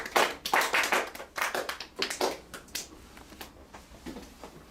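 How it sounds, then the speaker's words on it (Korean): A small class audience at a debate session claps in short, uneven bursts that thin out into a few scattered claps, close and fairly loud. "자 박수."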